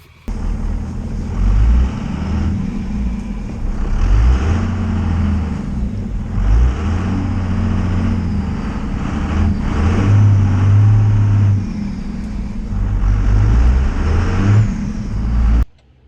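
A 5.9 Cummins diesel truck drives on snowy roads in four-wheel drive with a steady low engine drone and a few rises in revving. The sound stays close and loud, then cuts off abruptly.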